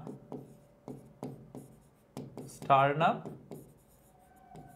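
A teacher writing on a classroom board in a biology lesson, with sharp, irregular taps and scratches of the writing tool. A voice speaks briefly partway through.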